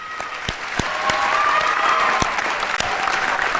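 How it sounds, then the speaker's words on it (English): A crowd at a high school senior assembly gives a steady round of applause, loud and close. The dense clapping carries on without pause for a few seconds, with a few sharper individual claps standing out from the rest. "How about one more applause for everybody and all our amazing faculty and donors."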